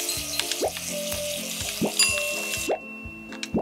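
Onions frying in a cooking video game, with a loud steady sizzle broken by repeated quick rising whoosh-like cues and small chimes, about four in a few seconds, with no speech.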